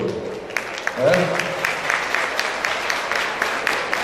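Applause from an audience at a district convention plenary session, a light, steady patter of many hands carrying on throughout, heard faintly in a large room under a voice.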